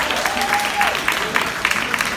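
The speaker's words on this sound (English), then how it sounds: "Give a big round of applause" Applause from an audience at a live unplugged soca concert inside an Apple store in Williamsburg, a steady wash of clapping with a faint tonal note drifting over it early on.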